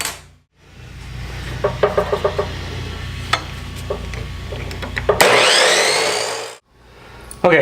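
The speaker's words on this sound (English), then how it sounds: "So let's go ahead and cut the ends of these off." Power tool cutting the ends off plastic reservoir mounts for a Camaro install, with rattly intermittent bursts, then a loud sustained whining cut that stops abruptly before a short final burst.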